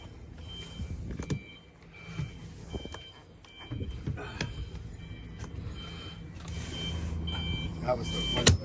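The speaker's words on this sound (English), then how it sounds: "Some infernal beeping outside." Repeated electronic reversing beeps from a vehicle outside, steady and moderately distant, sound behind nearby movement and low rumble during a bus inspection.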